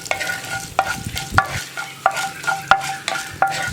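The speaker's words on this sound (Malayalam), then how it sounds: "ഇനി നമുക്കിതിലേക്ക് നമ്മൾ എടുത്തു വെച്ചിരിക്കുന്ന വറ്റൽമുളക് ചേർക്കാം." Dried red chillies frying with urad dal in hot oil, a light sizzle broken by a regular series of ringing metal spoon scrapes and taps against the pan, close and clear with no talk.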